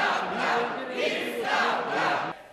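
A crowd at a regional council session chants loudly and in unison as the council head arrives, the rhythmic shouted words rising and falling in pulses before cutting off abruptly.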